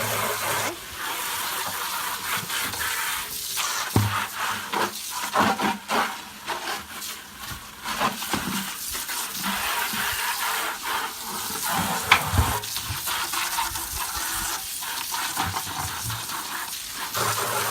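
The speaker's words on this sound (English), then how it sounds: "And I'm gonna quickly rinse." Water rinses a farm bucket, a loud continuous splashing hiss with sloshing and rubbing surges and a few knocks against the bucket, close by and without talk.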